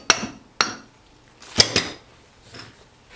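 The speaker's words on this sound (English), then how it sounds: "pushed it in with a 2-pound hammer to get it started" A 2-pound hammer taps a Teflon part into a TCM FG25N2S forklift power steering cylinder, striking four or five sharp metallic blows at uneven intervals, close and clear, with no talk.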